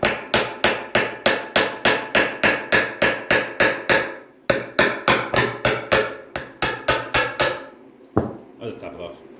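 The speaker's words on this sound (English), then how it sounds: "we can tap off the rear flange" Steady hammer taps knock the rear flange off a Triumph TR6 gearbox, a rapid metallic series of about twenty ringing blows, close and loud, with a short pause midway and a few scraping clatters at the end.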